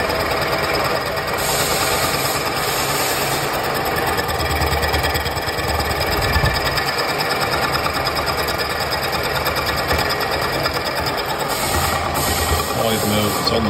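A milling machine cutter runs steadily in a workshop, making a continuous mechanical hum and whir with high-pitched tones, while a person talks over it now and then.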